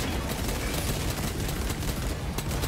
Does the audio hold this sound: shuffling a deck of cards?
no